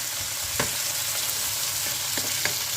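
Garlic is stirred into a pan of frying sausages and softened onions, a steady close sizzle broken by a few soft scrapes of the spoon.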